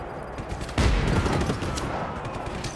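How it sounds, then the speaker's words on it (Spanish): Shotgun fire in the open-world action game Just Cause 3, a loud sustained barrage of overlapping blasts with a heavy burst near the start and rapid shots continuing throughout. "Joder, las escopetas"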